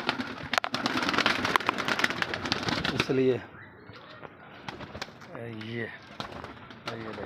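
A captured black female pigeon, caught during rain, makes faint bird sounds in brief bursts, partly heard amid close Hindi speech and handling noises.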